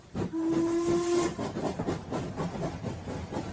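A steam boat train lets out a long, loud whistle blast followed by rushing, hissing steam that fades into clattering rail noise, staged as a radio drama sound effect.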